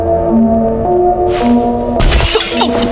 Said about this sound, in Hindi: ये शीशा मत तोड़ो।